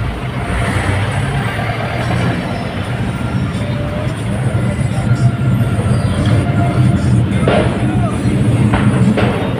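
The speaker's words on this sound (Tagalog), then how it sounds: "So ito ang Blumentritt stations ng LRT." An LRT light rail train rumbles through busy Blumentritt station, a steady low roar with rattling and metallic squeals, while people talk faintly in the background.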